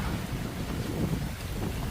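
Wind blows steadily across an open flower field in a Thai national park, a continuous rushing buffet close to the microphone with no voices.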